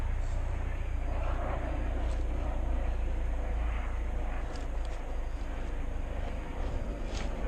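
A Redcat Everest 10 RC crawler motor whines steadily as it climbs a wall, a continuous close electric drone with a strong low rumble that swells slightly, alongside faint voices.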